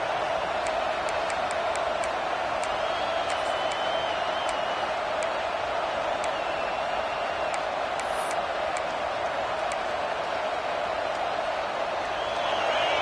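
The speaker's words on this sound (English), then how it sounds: "This crowd bringing the energy and noise early." A large stadium crowd at a Texas versus Michigan football game roars in a steady, continuous wash of noise, with scattered whistles and shouts rising above it throughout.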